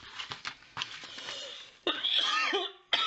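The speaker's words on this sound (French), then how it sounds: "à chaque fois que je fais des vidéos, je tousse." A woman coughs several times in short, close bursts, with a longer harsher cough near the end, heard alone without speech.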